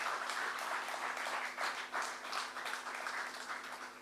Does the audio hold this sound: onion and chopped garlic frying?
no